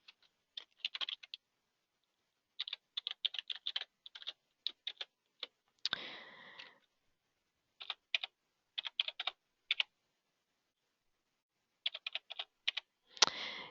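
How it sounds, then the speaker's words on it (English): Someone types an address on a computer keyboard in short clustered bursts of light clicking keystrokes separated by pauses, with a few heavier key strikes, close and quiet with no voices. "So I'm just going to quickly type in my address."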